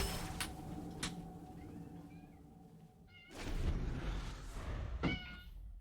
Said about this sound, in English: Come in, my orange cat.